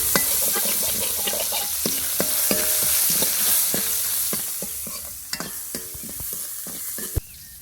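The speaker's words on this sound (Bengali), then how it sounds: "একটু হলুদ দিচ্ছি একটু লবণ দিচ্ছি চিংড়ি মাছ কটাকে একটু ভালো করে ভেজে নিচ্ছি" Shrimp frying in a pan with turmeric and salt, a loud close sizzle punctuated by many sharp clicks and scrapes of a spatula stirring, easing a little toward the end.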